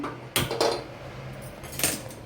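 A kadai pan knocks against a stovetop a couple of times, sharp clanks spaced apart over a quiet background.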